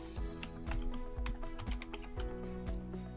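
Quick bursts of clacking keys on a computer keyboard as a password is entered, with close, crisp taps at uneven rhythm and no voices.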